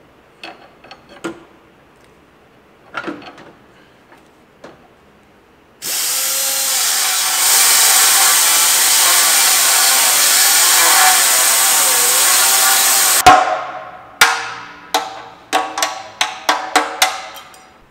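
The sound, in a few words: cutting a notch in a Honda Integra for headers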